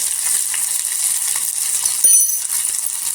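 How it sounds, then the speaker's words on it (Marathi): Raw green tomato sautés in oil with turmeric, a brief steady sizzle with a few light stirring clicks and one sharper clink, no speech. "छान असा तेलावर परतायची ही कच्च्या टोमॅटोची भाजी आहे"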